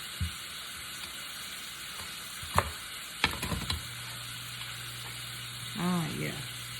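Onion rings for a jackfruit wrap sweating in a pan, a steady close sizzle with a few clinks of a utensil against the pan partway through and a short hollow whoosh near the end.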